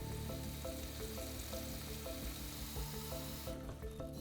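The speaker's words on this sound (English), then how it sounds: "Yes, I do wash my dishes by hand." Dishes being washed by hand at a kitchen sink, with running water hissing steadily while plates and utensils clink at intervals, until the water cuts off near the end.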